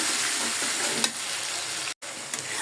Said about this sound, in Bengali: মশলাটা হালকা একটু কষাই আমি কলিজাটা দিয়ে দিব তারপরে একসাথে কষাবো